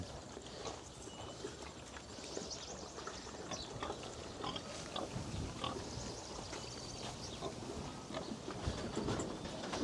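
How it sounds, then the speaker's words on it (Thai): Mixed-breed wild boar piglets raised free-range at the back of a garden grunt and squeal at feeding time, a busy jumble of small snorts and shuffling that is steady and moderately close. "อันนี้ก็เป็นน้องหมูชุดลูกนางเอ็น"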